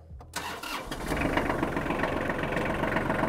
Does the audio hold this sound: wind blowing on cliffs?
no